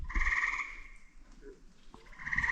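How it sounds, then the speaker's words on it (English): Frogs croak at a beaver pond in two dense bursts of bright, buzzing calls with a short quiet gap between them, fairly close and with no talk over them. "Frogs."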